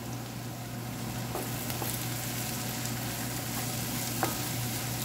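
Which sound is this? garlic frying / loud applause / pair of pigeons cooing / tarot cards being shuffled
garlic frying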